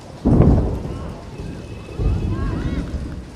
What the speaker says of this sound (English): Slight bit of thunder and lightning here.